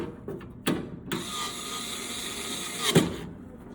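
A screwdriver or small power driver works screws back into a motor tray, giving a sustained close whirring run of about two seconds bracketed by sharp clicks and knocks, with no talk.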